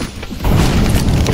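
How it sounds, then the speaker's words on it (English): An incendiary grenade in CS:GO ignites with a dull thump, followed by a steady, loud roar of flames that holds to the end. "Incendiary."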